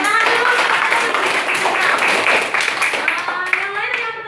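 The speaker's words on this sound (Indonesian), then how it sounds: "Tepuk tangan dulu." Students in a nursing-school classroom clap their hands together in a dense, steady burst of applause lasting several seconds, fairly close and loud, with voices and cheering mixed into the clapping.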